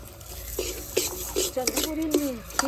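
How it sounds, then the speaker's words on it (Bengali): Sugar and khoa are stirred without pause in a wok for chandrapuli sweets, producing soft repeated scraping strokes at close range under a quietly speaking voice. "এইভাবে নাড়তে নাড়তে দেখবেন খুব সুন্দরভাবে ক্ষীরে পরিণত হয়ে যাবে দেখুন এইভাবে কিন্তু অনবরত নাড়তে হবে"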